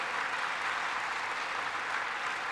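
An audience claps steadily at a speech, a dense, even wash of applause holding at one level throughout with no voices over it.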